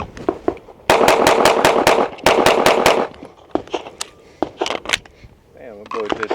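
A pistol fires in rapid bill-drill strings at close range, two tight bursts of about six sharp cracks each, then scattered single shots and clatter, with people talking between strings.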